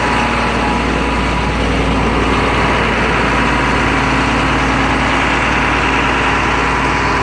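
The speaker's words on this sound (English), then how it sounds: "This has the throttle control so you can rev up the engine." A forestry bucket truck with about 110,000 miles runs its engine under throttle control, giving a loud, steady mechanical roar that stays close and constant throughout.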